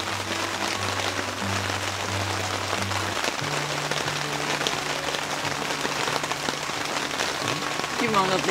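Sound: rain falling

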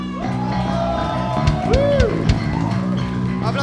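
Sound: audience applauding and cheering at a live show

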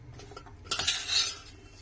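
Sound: stirring mango pickle with garlic in oil

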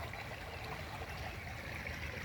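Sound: sulfuric hot spring water flowing out

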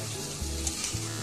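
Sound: stirring chicken masala with coriander and cumin powder in pan

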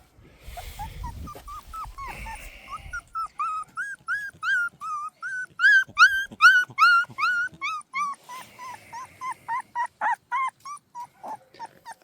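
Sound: black Jindo male puppy whimpering and growling

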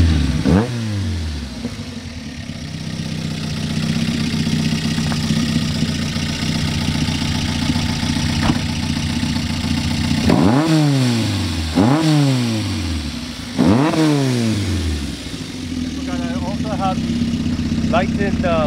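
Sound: 1985 Honda CR-X engine idling and revving, lightened flywheel

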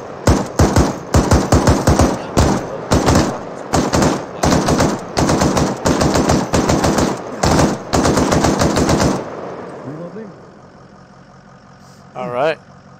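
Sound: suppressive machine gun fire in the video game ArmA3

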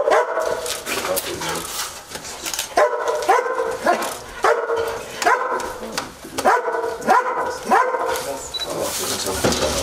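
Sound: search and rescue dog barking at a find

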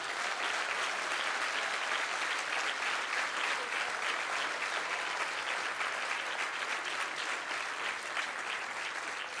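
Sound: crowd applauding at a political rally

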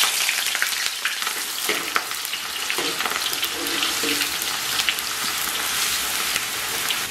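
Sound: shredded scallion and ginger frying in hot oil

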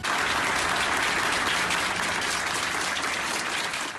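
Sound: applause

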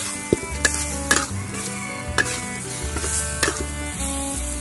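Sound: stir-frying garlic stems with shrimp and chili in a pan

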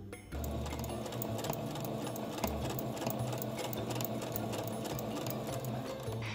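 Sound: sewing machine stitching handspun handwoven fabric

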